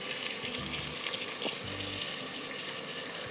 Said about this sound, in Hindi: थोड़ा सा पानी डालेंगे हम